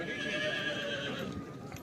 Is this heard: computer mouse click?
no